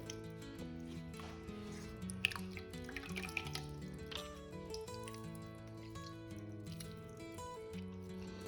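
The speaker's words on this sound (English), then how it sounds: "I'm just going to scoop out and squeeze out all the buttermilk." Buttermilk drips and splashes as homemade butter made from cream is squeezed by hand, a soft wet patter under steady background music.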